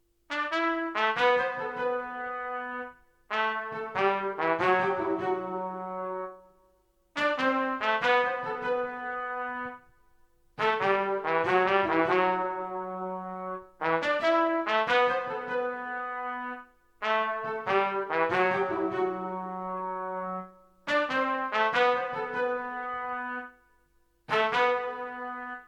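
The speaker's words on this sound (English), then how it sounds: "the instruments are a spiccato string from SRX Orchestra, as well as a trumpet from Expand, and together it sounds like this." Short R&B sample phrases of SRX Orchestra spiccato strings layered with an Expand trumpet, repeating in bursts of a few seconds separated by brief gaps, clear and moderately loud.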